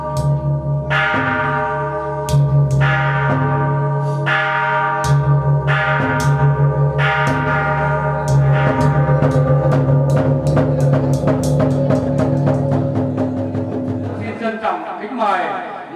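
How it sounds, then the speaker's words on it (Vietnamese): A ceremonial bell and drum ring out at an ancestral clan temple's inauguration in a Vietnamese village, with repeated loud strikes that quicken into a dense roll, while a steady low drone and people talking carry underneath. "kính mời các cụ, các ông trong họ nổi ba hồi chuông chiêm trống kính tổ"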